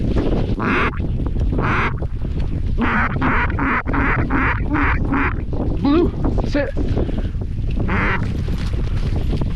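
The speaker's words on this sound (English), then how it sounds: "I think there are ducks." Ducks quack in repeated bursts during a Montana goose hunt outdoors, fairly close and loud over wind, while someone speaks briefly between the calls.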